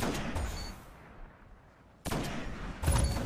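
Hand cannon shots in the video game Destiny: a loud opening burst of gunfire gives way to a quiet lull, then two more heavy, close reports follow in quick succession.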